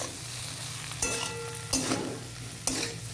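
Chowmein is stirred with Maggi masala in a frying pan, a steady close sizzle broken by a few sharp scraping stirs of the utensil against the pan, with no voices.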